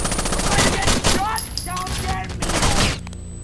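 Sustained automatic gunfire from Rainbow Six Vegas, loud continuous bursts of rapid shots that thin out briefly and then pick up again before stopping, with voices shouting over the shooting.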